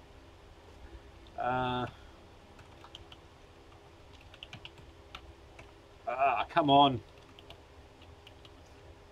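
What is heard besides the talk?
typing on a computer keyboard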